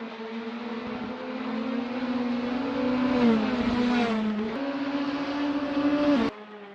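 Caterham 420R race cars circulate at Thruxton, a close engine note droning and climbing in pitch through gear changes, loud and steady, before cutting off abruptly near the end.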